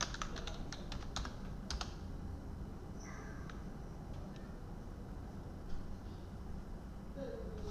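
Quick keyboard typing during a Java programming class, with a burst of sharp key clicks early on, including a doubled Enter press, then quieter scattered taps over a low room hiss.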